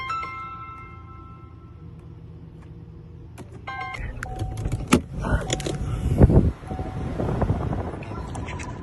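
A 2019 Chevy Equinox powering on with a newly programmed key: soft chimes and electronic beeps inside the cabin, then clicks and the engine cranking and catching into a close, steady idle rumble.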